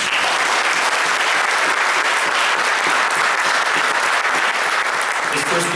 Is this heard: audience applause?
yes